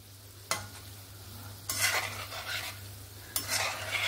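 Gulab jamun fry gently in oil over a low flame, a soft, quiet bubbling hiss punctuated by three brief bursts of louder sizzle as the pan is stirred or shifted, with a faint steady hum underneath.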